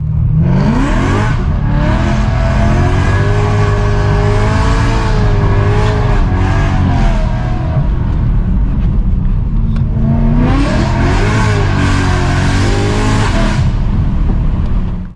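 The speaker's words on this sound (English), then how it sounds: "the player must complete a lap in Brands Hatch Indy with a BMW M3 E92" A BMW M3 E92 running a lap of Brands Hatch Indy in a Need for Speed game, its engine loud and close, revving high through the gears, easing off midway, then climbing again, with faint tire noise and no talking.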